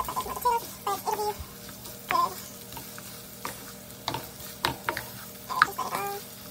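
Chorizo and potatoes frying in a pan, a soft sizzle broken by repeated scraping and stirring strokes at an irregular rhythm, close and fairly clear with no talk.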